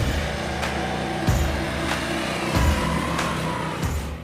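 A 2018 Harley-Davidson Fat Bob 114 V-twin motorcycle pulling hard through the gears, a loud, close, throbbing engine roar with brief dips at each gear change.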